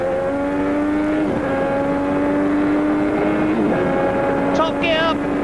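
An onboard racing car at the Australian Grand Prix screams at high revs in top gear, a loud, sustained engine whine that dips briefly at a shift, with commentary running over it.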